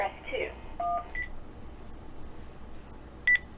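Automated telephone prompt system: a pressed keypad key sends short DTMF tones, first two paired beeps near the start and then a single beep close to the end, after a brief automated voice.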